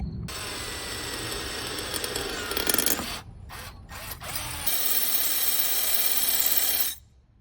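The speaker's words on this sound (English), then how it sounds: "I should be able to just drill them real quick." A power drill with cheap bits whines loudly in several bursts drilling into soapstone, with short pauses between, a grinding, whirring mechanical sound close by.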